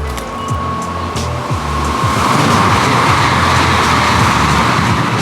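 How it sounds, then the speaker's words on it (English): A steady, loud rumble inside a Shinkansen bullet train travelling across Japan, with a low mechanical hum and a rushing noise that swells slightly and then holds constant, with no voices. "we are on the Shinkansen or bullet train heading to our next destination"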